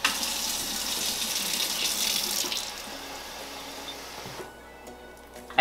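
Hot water runs from a tap into a bottle in a sink, a steady hissing gush for about four seconds before it cuts off, leaving quiet room sound and a brief knock at the end.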